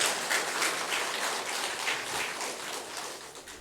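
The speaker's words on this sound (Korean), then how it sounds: "재환이도 우리 박수로 격려하고 합니다" A church congregation claps at a Sunday Advent service, soft even applause heard from a distance, steady and fairly faint throughout.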